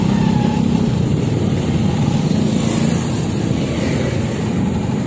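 Dense traffic rolls along EDSA road, engines and motorcycles droning loud and close in a continuous steady wash with no voices.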